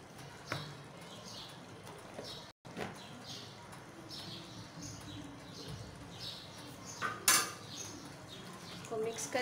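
A cooking pot of chana dal is stirred with a metal spoon, making quiet scraping and clinking sounds with occasional louder knocks against the pot.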